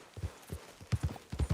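Horse hooves clip-clop in Red Dead Redemption 2, six to eight crisp, evenly paced strikes in pairs at a steady walk, close and clear.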